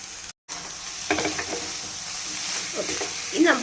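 Half-cooked rice and sautéed prawns with masala being stirred together in a hot pan, a busy sizzle with scraping and tossing strokes, broken by a brief moment of silence near the start.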